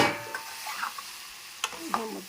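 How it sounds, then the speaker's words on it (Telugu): A ladle stirs an egg dish in an aluminium pan, giving soft scraping and light sizzle with a few sharp clicks of metal on metal, fairly close and fairly quiet. "అంతా కలిసిపోయేలాగా మనం గరిటతో నిదానంగా మనం తిప్పుకుంటూ ఉండాలి"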